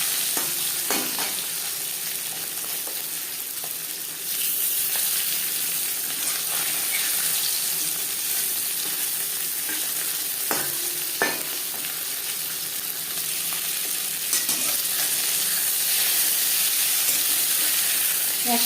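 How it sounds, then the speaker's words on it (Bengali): Fish coated in salt and turmeric frying in three spoons of hot mustard oil, giving a continuous, dense sizzle and crackle at a fairly loud, even level, with a few clinks and scrapes and no talk. "তিন চামচ সর্ষার তেল গরম করে নিয়েছি এবার দিয়ে দেবো লবণ হলুদ মেখে রাখা মাছ"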